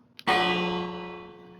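A single bell in a video game strikes once with a sharp onset and a long, gradually fading metallic ring, heard alone with no talk.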